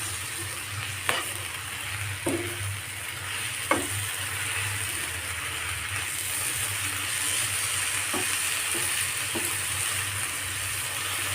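Drumstick leaf mixture stirred in a pan, a steady soft sizzle and hiss running close throughout, with a handful of distinct spatula scrapes and knocks spaced across it.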